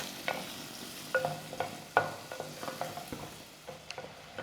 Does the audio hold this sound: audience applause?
no